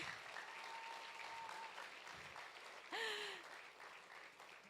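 A church congregation applauds for God during a sermon, a faint, even patter of clapping throughout, briefly overlaid by a sliding tonal sound partway through.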